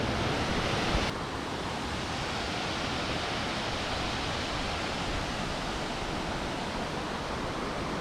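A waterfall roars as a steady, dense rush of falling water, loud and close, with a slight drop in level after the first second but no pause.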